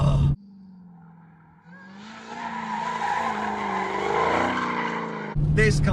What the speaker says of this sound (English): It builds as you rev the car.